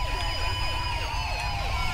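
A Mercedes-Benz Sprinter 119 ambulance siren in GTA V wails steadily and loudly with rapid repeating sweeps, alone over a low engine rumble.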